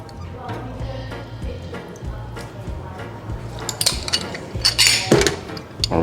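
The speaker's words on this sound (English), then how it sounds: "So I'm gonna go ahead and juice half of it." Half a lemon being juiced for a White Lady gin cocktail, with rhythmic squeezing and grinding on a juicer, followed by sharper clinks and squishy scraping as the juice is worked out, close and moderately loud.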